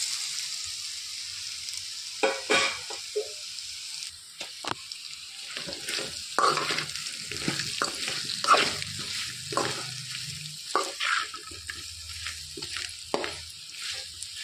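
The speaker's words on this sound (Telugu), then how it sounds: "ఒకసారి కలిపేసుకొని కట్ చేసి పెట్టుకున్న ఈ ముక్కల్ని వేసేసుకోవాలి ఇందులోనికి" Raw banana pieces and onions fry in a pan while being stirred, with intermittent scraping and clattering strokes over a soft sizzle, close and moderately loud.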